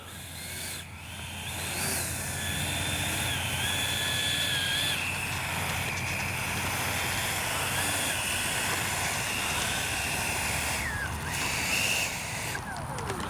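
A Freewing Yak 130 RC jet with a 70mm electric ducted fan runs steadily for the whole stretch, giving a loud, continuous rushing whine with high tones that rise and fall as the throttle shifts.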